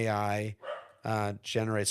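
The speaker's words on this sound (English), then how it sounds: "Sorry for my dog; he's very loud." An Australian Labradoodle barks loudly at close range, two or three full-throated, sharply voiced barks with a brief gap between them, while someone speaks briefly in the pause.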